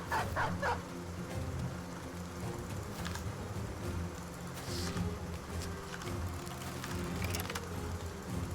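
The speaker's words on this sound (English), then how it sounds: "Cat Chaser is the first dog we ever bought." A dog barks in the Battle Brothers video game, a few quick bow-wow yips near the start over a steady low droning game background, faint and with no talking.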